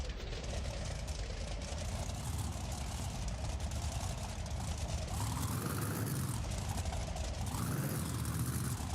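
A monster truck engine in BeamNG roars steadily at a Monster Jam event in Sacramento, a continuous loud low rumble that rises and falls in pitch as the throttle changes, with no talking.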